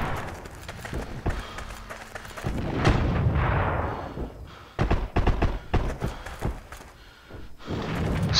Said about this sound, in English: Someone is firing at me from back here.